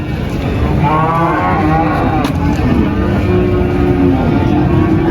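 A Limousin cow moos loudly and close by at a cattle market, one long drawn-out call over a busy background rumble of other animals and surroundings.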